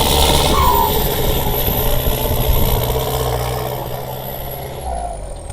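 A tuned Isuzu truck engine with a 3-1 gearbox runs steadily and loudly throughout, a deep continuous rumble with a faint hiss of air.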